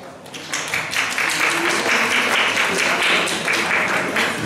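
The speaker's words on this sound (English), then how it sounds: "because it's not so many applause." An audience at a Berlin conference applauds, a dense, steady clapping that swells quickly and holds for a few seconds before easing slightly.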